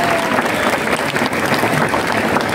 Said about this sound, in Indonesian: tepuk tangan Satya.